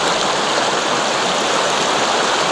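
A creek flowing right beside a hiking trail at the Seven Tubs Nature Area near Wilkes-Barre, Pennsylvania, a loud, steady rushing of water that fills the whole clip with no voices.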